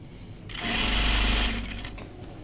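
A sewing machine runs a steady seam upward from the hem of a muslin garment, revving up after a quiet start, holding a loud even whir for about a second, then easing off near the end.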